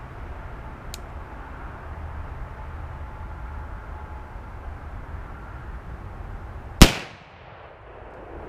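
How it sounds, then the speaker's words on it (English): A single loud gunshot is fired at a buck while hunting on Kentucky public land. The sharp crack comes near the end, after a quiet outdoor stretch with a faint click early on. "I just shot a buck"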